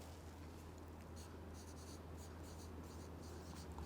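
A pen scratches steadily across paper or board while someone writes notes on blood vessels in a class 10 biology lesson. The scratching is soft and continuous over a low, steady room hum.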